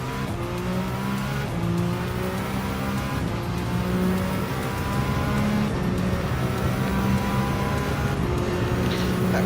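Ferrari engine in the racing game Gran Turismo 7, a steady loud drone with rising and falling rev tones as gears shift, continuous throughout with no talk.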